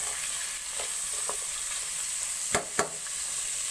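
Pork sealing in a hot pan for a curry gives a steady bright sizzle throughout, broken by two sharp stirring clatters near the end.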